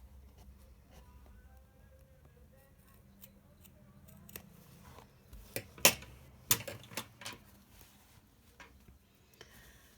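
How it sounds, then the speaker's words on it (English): Sharp scissors trim fabric for a Victorian half bodice, giving a quiet cluster of crisp snips in the middle of the clip over a soft room background. "Make sure you got sharp scissors."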